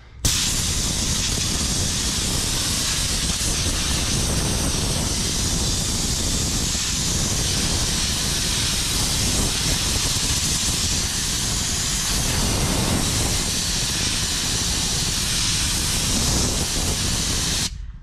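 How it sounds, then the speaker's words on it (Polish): Compressed air hisses steadily from an air gun in a car-detailing setting, a loud, broadband continuous blast lasting the whole stretch with only slight fluctuations and no talk over it. "Sprężone powietrze."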